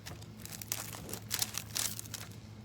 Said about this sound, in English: Here's another one we're gonna pull out of the mold.